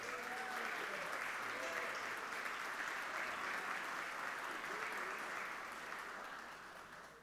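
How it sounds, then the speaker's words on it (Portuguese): A church congregation applauding a returning member during a Sunday service, a faint, steady wash of clapping held for several seconds before tapering off, with a voice murmuring underneath. "pode aplaudir."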